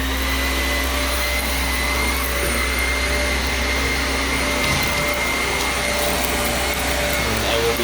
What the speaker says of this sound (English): So I am starting out with the vacuuming.